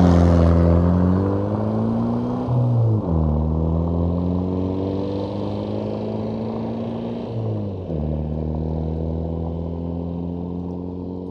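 Engine of a 29-year-old all-wheel-drive VW rally car, heard close up as it revs and pulls through two or three gear changes, the pitch climbing, dropping at each shift and climbing again, loud and steady, with no talk.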